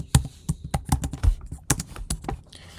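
Computer keyboard typed in short irregular bursts of close, crisp key clicks, alone with no talk.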